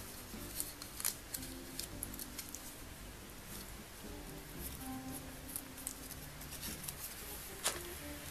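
Scissors snip paper to make accordion flowers, giving faint, close, irregular crisp snips with light paper rustle in a quiet room.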